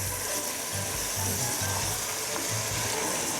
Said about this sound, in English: Now it's time to add the meat. We have beef and pork together